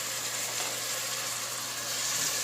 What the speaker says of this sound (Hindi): तब तक भूनेंगे जब तक टमाटर हमारे नरम ना हो जाएं।